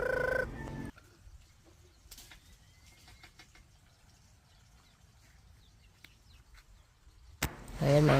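Chickens on a rural Philippine farm beside rice paddies, clucking in short bursts at the start and again at the end, with a quiet outdoor lull and faint sounds in between.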